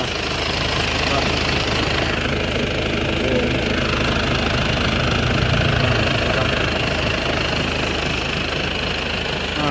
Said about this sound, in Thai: เครื่องดีอยู่นะพี่ เครื่องดีเยียบพุ่ง